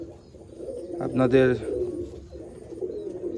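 Large Katagaddan Mukho pigeons, a Malwai breed kept in Baruipur, give a soft, continuous low cooing close at hand, with a voice talking briefly over the birds.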